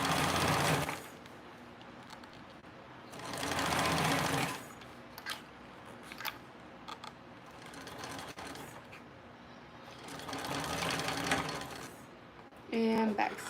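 Sewing machine back stitching a 1/8 inch seam, running in several loud bursts of rapid whirring separated by quieter pauses with small clicks and handling noises.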